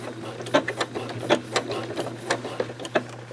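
A sewing machine runs a lock stitch on a coiled rope bowl, with a steady low motor hum and a series of sharp, rapid stitching bursts at a regular pace, heard close with no talk.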